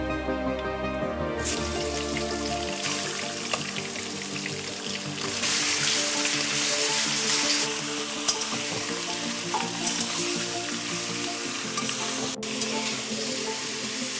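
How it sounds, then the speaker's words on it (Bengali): Mutton pieces browning in hot oil in a pan for mutton do pyaza, frying right after the onions are taken out; a steady, loud sizzle crackles on throughout with occasional stirring scrapes, and nobody talks. "মাংসগুলোকে বাদামি করে ভেজে নেব।"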